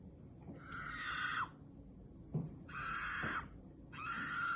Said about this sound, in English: So when we play a screaming sound,